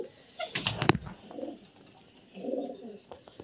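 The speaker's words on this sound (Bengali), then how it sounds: "এটা 4 বছরের পায়রা" A four-year-old female racing pigeon in a loft gives a few soft coos, with a burst of wing flapping near the start and a second low coo later, all close and fairly quiet.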